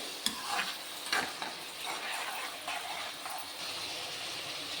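Vegetable fried rice stir-fried in a pan, giving a steady broadband sizzle with a few sharper scraping or tossing strokes near the start, close and moderately loud, with no talking.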